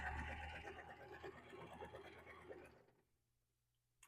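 A sewing machine hums quietly as it stitches close along the edge of a pillow made from a repurposed quilt, running for a few seconds before stopping and leaving near silence.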